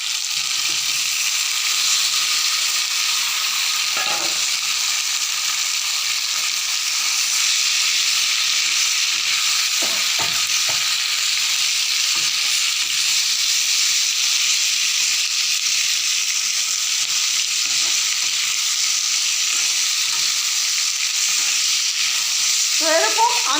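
Potatoes, eggplant and fish fry in an already-cooked spice paste in a pan, giving a loud, even hiss of sizzling that runs unbroken, with occasional soft knocks of a stirring spoon.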